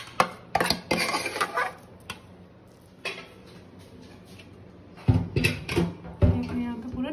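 Cooked shami kabab mixture being transferred into a bowl, with scattered clinks and scrapes of a spoon against cookware, louder bursts near the start and end, and someone talking over parts of it.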